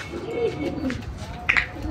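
A racing pigeon coos softly several times near the microphone, with a brief brighter flutter or call near the end of a short outdoor moment.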